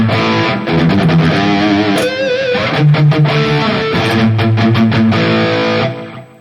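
Electric guitar played through the built-in drive block of a Valeton GP-200 multi-effects unit, giving a loud, steady overdriven tone of strummed chords and single notes with no talking.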